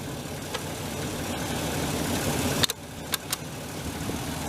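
A 1996 Ranger pickup engine idles with a low, steady rumble, a slight misfire and a faint mechanical valve clatter, broken by a few sharp clicks near the end.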